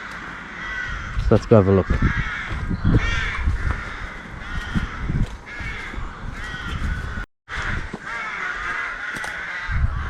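Crows caw repeatedly in woodland near a 13th-century church site, harsh calls scattered throughout and overlapping, with someone speaking briefly over them.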